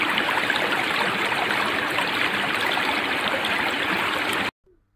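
Flowing water of the Mahakam River in East Kalimantan, a dense, steady rushing wash heard close and alone, cutting off abruptly near the end.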